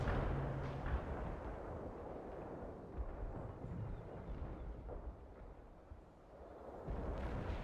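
Heavy artillery fire in a war video game, a continuous rumbling barrage of deep booms rolling close and loud, swelling at the start and again near the end with no voices over it.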